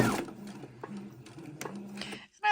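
A sewing machine stitches apron fabric in short, quiet bursts of whirring with small mechanical clicks, close by, ending in a brief pause and a louder knock.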